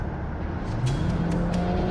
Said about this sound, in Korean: 요 배기음, 그 다음에 빠랑 터지는 요 팝코너, 가속력 끝장나죠